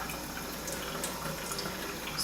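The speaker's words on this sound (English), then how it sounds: "Just wet the brushes" Water splashes and trickles as makeup brushes are dunked and wetted in a basin, a steady close liquid swish with no talking.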